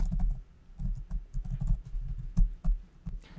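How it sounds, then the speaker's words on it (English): Keystrokes on a computer keyboard tap out in quick, uneven bursts, close and clear with no voices. "So let's go ahead and type that in."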